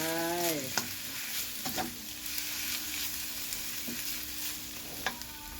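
Dark soy sauce being stir-fried with noodles in a wok for pad see ew with tofu, a steady close sizzle broken by several sharp scraping stirs and clanks, with no talking.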